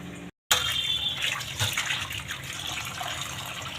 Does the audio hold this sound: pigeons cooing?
no